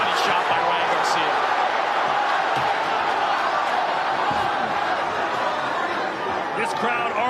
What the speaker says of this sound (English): This crowd already at full voice